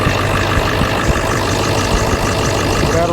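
Ford 7.3L Powerstroke diesel idling steadily just after startup, with air in the system, the Gen3 HPOP recently repaired; a continuous, loud, close low rumble and clatter with no pauses.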